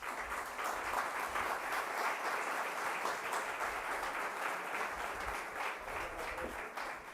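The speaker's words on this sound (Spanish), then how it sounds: "lo recibimos con un fuerte aplauso" Sustained audience applause welcoming a panel at a commemoration event for family businesses, a dense continuous wash of many clapping hands, steady and moderately distant for about seven seconds.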